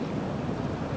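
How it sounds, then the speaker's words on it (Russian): A small stream named Svetly flows with a continuous, dense rush of water heard close by and unbroken, with no voices. "Ручей называется Светлый."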